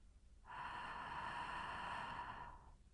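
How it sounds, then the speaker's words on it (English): Steady breathing through the nose carries a light, even friction hiss, one smooth breath of about two seconds, close and quiet with soft onset and fade. "The friction noise remains the same, both when inhaling and exhaling."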